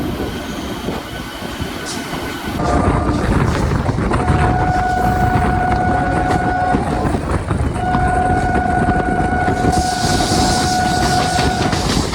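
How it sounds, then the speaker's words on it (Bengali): A Howrah–Serampore local train passes close by near Liliuah station in Kolkata, loud and steady, with rumbling wheels, rhythmic clatter and high squealing tones rising as the carriages roll past. "আর এই হচ্ছে বন্ধুরা আমাদের পার করে চলে যাচ্ছে হাওড়া শ্রীরামপুর লোকাল"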